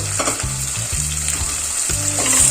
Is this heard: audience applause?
no